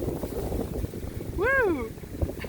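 Wind blowing outdoors buffets the microphone with a steady low rumble throughout, with a brief rising and falling voiced whoop in the middle.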